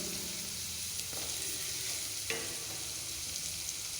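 Onions sizzle and crackle in hot oil with mustard seeds while a utensil scrapes and stirs the pan a few times, steady and fairly quiet.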